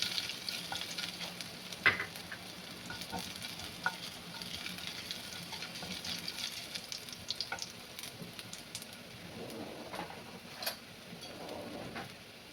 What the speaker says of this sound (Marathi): त्याच्यामध्ये जिरं घालायचं आहे आणि अद्रक घालायचं आहे. गॅस कमीच ठेवायचा आहे आणि थोडंसं जिरं अद्रक चांगलं तेलामध्ये परतून घ्यायचं आहे.